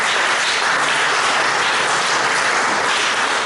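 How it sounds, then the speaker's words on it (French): An audience at a twin-town heritage and economy gathering in Auxerre breaks into steady, dense applause, loud and continuous for the whole stretch, with no talking over it. "Je pense qu'on peut applaudir l'initiative, mesdames, messieurs."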